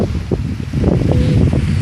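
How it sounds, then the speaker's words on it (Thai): Strong seaside wind at a bay in Prachuap Khiri Khan, Thailand, buffeting the microphone in loud, rumbling gusts with surf noise beneath, steady and close throughout. "ลมแรงมาก"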